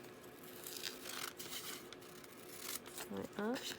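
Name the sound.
cutting paper with scissors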